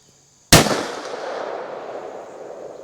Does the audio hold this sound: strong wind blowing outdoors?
no